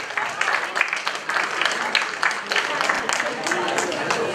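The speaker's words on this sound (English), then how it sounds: "Please have a round of applause for him." Audience at a literature festival comics session claps for a student who made a drawing on the spot: irregular, moderately loud clapping from a modest crowd, with some voices mixed in.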